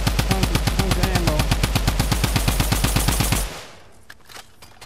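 Decked Out Drum Gun in Fortnite fires a long, rapid automatic burst of evenly spaced loud shots for about three and a half seconds, then cuts off to quiet background.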